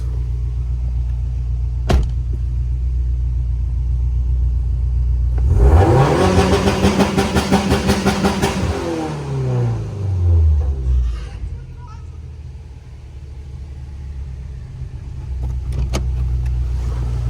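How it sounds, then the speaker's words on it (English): 1000 hp car on a dyno using two-step launch control, a loud idling rumble that builds into a few seconds of harsh, stuttering, popping revs before falling back to idle, with background noise. "So I know he's eager to hear what this two-step sounds like."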